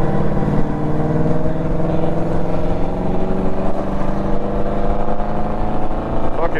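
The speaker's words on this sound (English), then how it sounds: "Friday traffic, folks." Steady dense road traffic on a Friday, engines droning and rumbling continuously at close range with rising and falling pitch as vehicles move, no speech over it.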